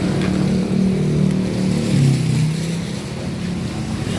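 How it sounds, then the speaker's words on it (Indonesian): A Yamaha XMAX scooter fitted with a smart-key alarm idles close by, a steady low engine hum with slight wavering pitch that holds for about four seconds and carries no talk. "Ini motor hidup seperti ini."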